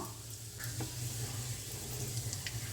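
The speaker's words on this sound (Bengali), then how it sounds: "ভালোই গরম হয়েছে ফ্লেমটা এখন হাই থাকবে সাদা জিরে পোড়ন দেব" White cumin seeds sizzling in hot mustard oil over a high flame, a faint steady hiss of frying with light crackles and soft ticks throughout.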